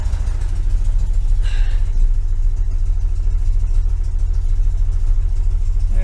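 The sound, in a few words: 1973 VW Super Beetle engine idling, Dellorto FRD 34B carburetors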